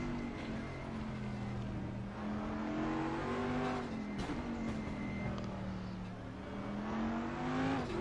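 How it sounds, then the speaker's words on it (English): Race cars, including a Cadillac and a BMW, rumble over a rising and falling hill at the Mid-Ohio circuit, with several engines droning and shifting pitch together at steady, fairly loud volume throughout. "See how cautiously these cars come over that hill."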